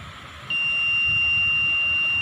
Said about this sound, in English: the buzzer will attract the pet